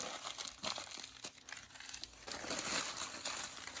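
Paper being crumpled tightly by hand as kindling for a wood stove, a steady close crinkling and crackling with sharper bursts, no voices.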